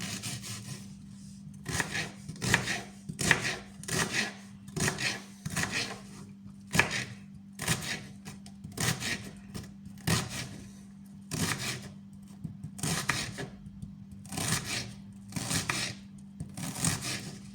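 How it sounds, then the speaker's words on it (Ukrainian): A knife finely chopping onion on a board, repeated quick clusters of chopping strokes with short pauses, over a steady low hum. "Тепер нарізаємо туди цибулю дрібненько."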